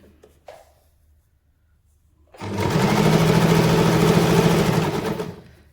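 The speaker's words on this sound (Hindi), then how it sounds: "इस तरह से मैं पूरे पर सिलाई लगा लेती हूँ, ये दूसरे कोने तक।" A sewing machine runs steadily for about three seconds, stitching along a folded edge of a small dress for a Laddu Gopal idol, starting after a quiet pause with a few faint handling clicks.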